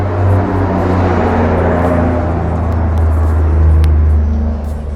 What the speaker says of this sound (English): That was a really loud car.